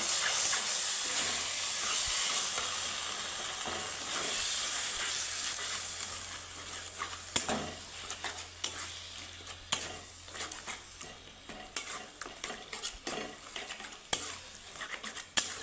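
Coriander powder being stirred as it fries in a pan for a vegetarian taro greens dish, a loud hissing sizzle at first that settles into quieter frying with repeated spoon scrapes and taps.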